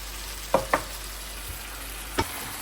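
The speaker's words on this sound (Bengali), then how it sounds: "এখন আমি একটু ভুনা করবো মাংসগুলি" Chicken pieces stir-fried with turmeric, cumin, curry powder, coriander and garam masala in a home kitchen, a faint steady sizzle broken by three short scraping stirs of the spoon against the pan.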